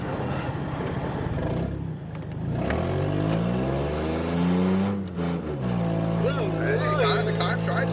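Ford Mustang with a new transmission and open differential accelerating hard on a test drive, engine note climbing and falling through gears, loud and close with voices talking over it.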